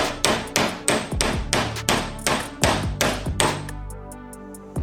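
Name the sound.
hammer pounding a part off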